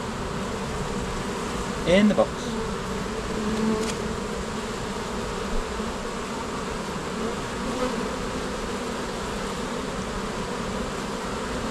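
Honey bees buzz around a bin during a removal, a continuous close drone of many wings with a few louder passes near the start, while a person speaks briefly.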